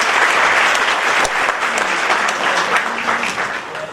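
A crowd at a Meerut University event breaks into sustained applause, loud and even throughout, with scattered sharper claps standing out from the dense wash.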